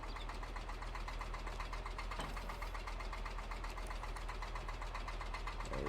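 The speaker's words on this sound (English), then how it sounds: "Probably go ahead and fire up the tractor." A tractor engine idles in Farming Simulator 22, a steady low rumbling drone with a rhythmic mechanical chug that continues unbroken throughout.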